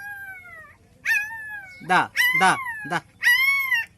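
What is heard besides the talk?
puppies crying and whimpering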